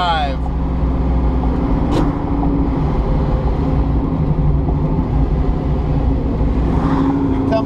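A 1969 Ford Mustang Mach 1 R Code drives along a road with a steady, loud engine rumble and road noise, with a brief sharp transient partway through and a voice talking over it.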